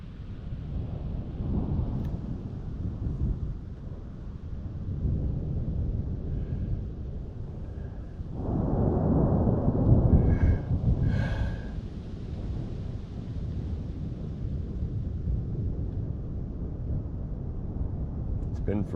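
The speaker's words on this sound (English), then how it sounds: "fell asleep in my tent in the rain," Steady rain patters on a tent at night under a low, continuous rumble of thunder that swells in the middle. A faint voice murmurs now and then.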